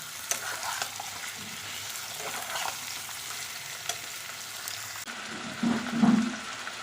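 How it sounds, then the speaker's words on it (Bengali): Chicken pieces sizzle and fry with onions in a pan while being stirred, a soft steady crackle with scraping stir noises and a louder burst of sizzling near the end, no talking. "চিকেনগুলো দিয়ে একটু পেঁয়াজের সঙ্গে ভালো করে নেড়ে নেবো"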